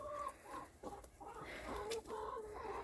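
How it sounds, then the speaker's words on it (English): A young rooster clucking repeatedly in short, throaty calls, fairly faint, against a steady outdoor background on a winter morning, with no talking. "He's become quite the rooster."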